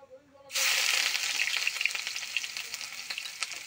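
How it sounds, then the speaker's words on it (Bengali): Whole white cumin seeds hit hot oil and burst into a loud, steady sizzle that starts abruptly after a brief quiet moment and then crackles on with small pops, close up, with no talking. "জিরেটা ভাজা ভাজা হয়ে আসছে, সাদা জিরে, গোটা জিরে।"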